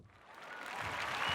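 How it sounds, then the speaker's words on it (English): Applause for a live music act on a casual talk show, a steady wash of clapping that swells a little louder over about a second and a half. "Round of applause."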